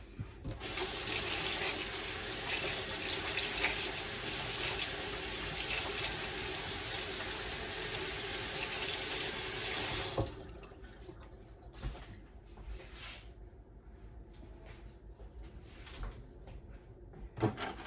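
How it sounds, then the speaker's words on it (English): A kitchen tap gushes into the sink for about ten seconds while hands are washed. The water then stops, and scattered knocks and clatters follow in the quieter room. "Let me wash my hands."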